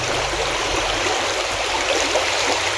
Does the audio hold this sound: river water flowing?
yes